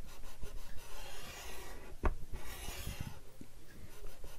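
Paper being scored a quarter inch from the end, a close, continuous rasping rub with one sharp scraping accent midway, over a steady low background.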